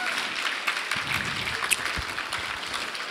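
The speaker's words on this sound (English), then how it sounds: "So maybe a big round of applause for the audio and visual and the technical teams who set it all up." An audience applauds steadily, a dense patter of clapping from many hands at moderate volume.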